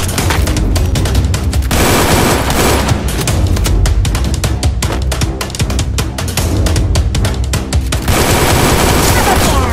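M249 machine gun in a PUBG-style battle game firing in long rapid bursts, loud dense automatic fire with short gaps between volleys across most of the span.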